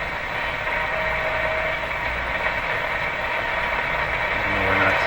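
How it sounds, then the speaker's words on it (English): Philco 38-C7 tube radio giving off shortwave-like noises: dense steady hiss and crackle with faint whistling tones, continuous throughout with no voices. "they all sound like shortwave sounds to me"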